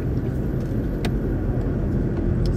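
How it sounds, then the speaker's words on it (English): A moving car heard from inside gives a steady low road rumble and engine drone, with a couple of faint clicks and bumps and no talking. "the car is moving, so in case you're wondering, the bumps"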